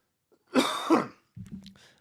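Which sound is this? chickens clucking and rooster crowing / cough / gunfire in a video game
cough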